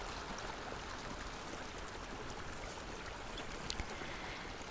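Water flows continuously in an outdoor stream, a broad, even rushing that stays close and steady throughout with no voices over it.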